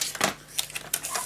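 Scissors snip paper for a pop-up scrapbook mini album, three or four short crisp cuts close by, with no talking.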